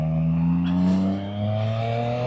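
A Yamaha MT-09 Gen 3 motorcycle accelerating, its engine note rising in a smooth, loud rev that dips briefly and climbs again, heard close and without talk.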